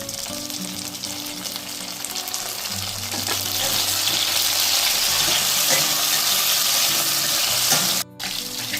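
Onions and tomatoes fry in a pan for a spicy Andhra fish curry: a steady, close sizzle with faint stirring and watery hiss, louder after a few seconds and briefly cut near the end, with no talking.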